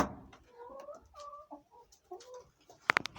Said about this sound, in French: Ici donc j'ai 12 poules pondeuses et puis donc 2 coqs